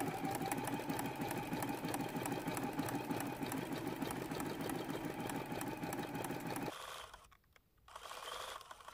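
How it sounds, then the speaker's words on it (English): A sewing machine stitches satin stitches with embroidery thread for quilt appliqué, a fast even mechanical clatter that runs steadily, then stops briefly and starts up again near the end. "Change my foot, and now we're going to do some satin stitches."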